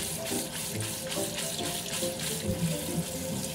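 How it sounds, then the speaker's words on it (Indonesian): Cold tap water runs steadily into a sink as bean sprouts are rinsed for a Korean side dish, a continuous close splashing wash with no voices. "lalu kita langsung cuci dengan air yang dingin agar togenya tidak lembek"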